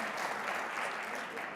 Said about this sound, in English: Should we just give one more round of applause?